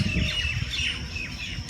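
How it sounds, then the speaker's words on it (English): Several birds chirp and sing in overlapping calls in a park at dawn, with a steady low background rumble underneath. "Can you hear the sound of birds?"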